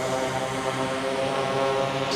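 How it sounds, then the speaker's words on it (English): A delivery drone flying off over Shenzhen gives a steady, loud propeller whir with a dense harmonic buzz, lasting throughout with no talking. "Bye-bye drone."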